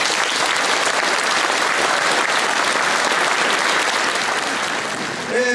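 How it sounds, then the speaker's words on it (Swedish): Sustained loud applause fills the hall at an association gala in Borås, many hands clapping steadily, with a hint of voices and a tone emerging just as it tapers at the end. "Jag tycker kvällens absolut största applåd går till dessa tre herrar."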